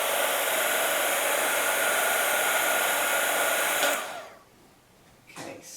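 A heat tool blows steadily and loudly to melt embossing powder on a clamp being aged to look old, then cuts off near the end, leaving a brief quieter stretch with a faint handling noise.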